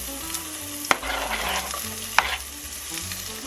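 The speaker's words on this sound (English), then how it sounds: "Onions going in." Onions hitting hot sausage fat in a pot, sizzling and frying steadily while a spoon stirs, with two sharp clacks of the utensil against the pot.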